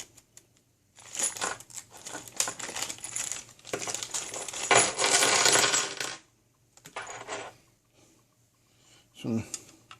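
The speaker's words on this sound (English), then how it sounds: "big ass screws with some washers" Large screws and washers are handled, giving bright metallic clinks and rattles in irregular bursts, with a denser jangling stretch midway and short pauses between, close and fairly loud.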